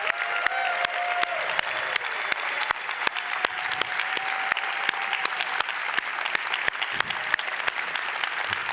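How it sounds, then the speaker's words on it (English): Theater audience applauding at the Gearbox Main Theater Show at PAX West 2024, sustained clapping from a large crowd with sharp individual claps standing out, steady throughout. "Can we all give him a round of applause and send him our love?"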